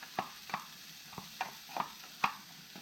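Garlic cloves dropping into a large bowl, five or six soft separate knocks and scrapes spaced across the moment, close and fairly quiet with no talking.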